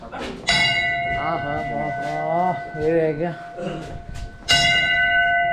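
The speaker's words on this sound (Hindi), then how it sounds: "इस घंटी से सारी नेगेटिव एनर्जी दूर हो जाती है।" Bell at Jakhu Hanuman temple in Shimla rung twice, each strike giving a bright ringing tone that decays slowly, close and loud, with people talking in between.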